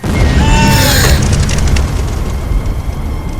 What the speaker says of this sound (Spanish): ¿Qué fue ese ruido? Parece una explosión.